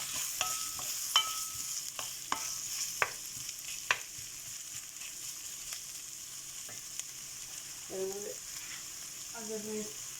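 Onions fry in oil toward brown under a steady, faint sizzle, with sharp clicks and scrapes of stirring at irregular intervals and a couple of short tonal bursts late on.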